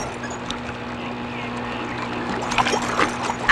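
A boat moves on water in a Telugu film scene, with a steady, close wash of water and engine noise running throughout and a few faint splashes near the end.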